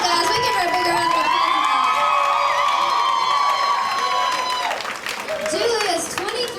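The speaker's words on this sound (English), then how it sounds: "we give her a bigger round of" A lively crowd at a Texas steakhouse opry night cheers and applauds, with sustained shouts and whoops, some high voices, over a dense bed of clapping that briefly dips near the end.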